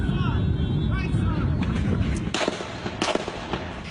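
Rapid gunfire from a shooting in Alexandria, with police engaging a lone gunman, recorded on a phone: sharp cracks and bursts ring out through a loud, rumbling noisy scene, with voices partly underneath.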